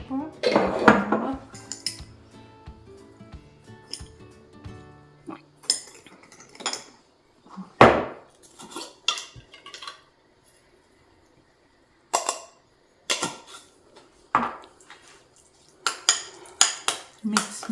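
A zucchini flower filling with lemon and black pepper is mixed in a bowl, with sharp spoon clatters and scrapes against the dish coming in loud bursts separated by quiet pauses.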